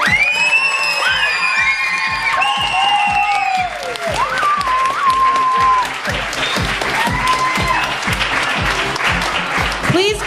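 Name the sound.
audience applause for a children's choir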